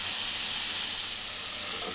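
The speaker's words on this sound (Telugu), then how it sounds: "ఇక ఈ విధంగా మంచిగా ఫ్రై కావాలండి." Cluster beans chutney fries in a pan with a steady, loud, close sizzle that hisses continuously throughout.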